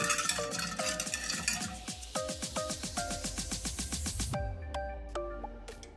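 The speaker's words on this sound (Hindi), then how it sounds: "अब इसे भी हम अच्छे से मिक्स कर देंगे" Sharbat being stirred and mixed in a vessel: a rapid, rhythmic run of light clinks and swirls from a spoon, close and fairly quiet, steady throughout with no voices.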